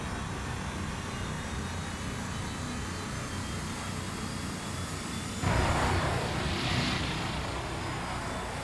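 Airplane engine drone from the naval warfare game Sea Power, a steady broadband roar that swells louder partway through as the aircraft dips, with no talk over it.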